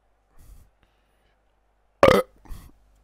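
A single loud, close burp erupts from a person in an otherwise quiet room, preceded and followed by faint murmurs.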